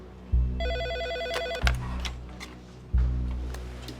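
A telephone rings with a trilling electronic tone, accompanied by a few dull thumps, indoors and moderately loud.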